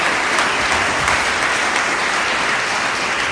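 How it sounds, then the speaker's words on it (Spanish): A church congregation claps loudly and steadily, dense applause filling the whole stretch without a break. "denle un aplauso al Señor por eso"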